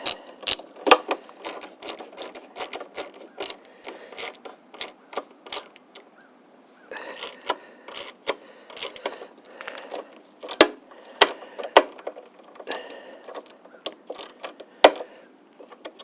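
Bolts snugged down on the luggage rack of an SSR Buccaneer motorcycle, a run of quick metallic ratcheting clicks in bursts with brief pauses, close and crisp.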